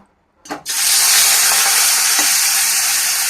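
Shrimp coated in salt and turmeric drop into hot oil in a pan, setting off a sudden, loud, continuous sizzle that keeps going evenly.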